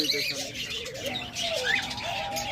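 A master pair of lovebirds for sale chirps in quick, high twittering bursts amid a busy bird market with other birds and a voice talking underneath.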